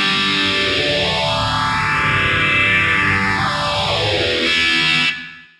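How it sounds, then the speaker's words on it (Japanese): Electric guitar played through a phaser effect on a Headrush multi-effects unit: a sustained chord with a slow sweeping whoosh that rises and falls in a single long arc, loud and alone before cutting off. "こっちはフェイザーですね。"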